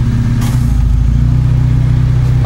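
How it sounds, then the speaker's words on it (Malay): A car engine on a vehicle with an idle that nearly dies when the air conditioning is switched on, turning over and settling into a steady, loud, close idle with a rumbling low drone throughout. "Okey, kita start enjin dulu."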